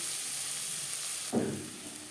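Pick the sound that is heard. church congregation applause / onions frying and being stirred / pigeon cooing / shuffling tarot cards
onions frying and being stirred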